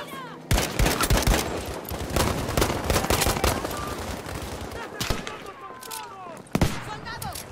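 Rifle gunfire from the Turner SMLE in Battlefield V: sharp, loud shots cracking out at irregular intervals amid battlefield noise, with further distant shooting and in-game soldier voices shouting underneath.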